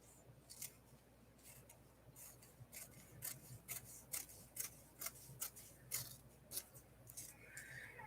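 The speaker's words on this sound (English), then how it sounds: "So I'm just going to trim it to the size that I have cut here." Scissors cut through heat and bond fusible fabric in a run of crisp, close snips with an irregular rhythm. The snips are fairly quiet against a soft background, with no talking.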